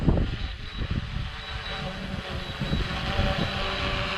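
A DJI Mavic 2 Pro drone hovers and lands itself, giving a steady, high whining buzz over a low rumble that sounds like wind. It stays at an even, moderate distance throughout.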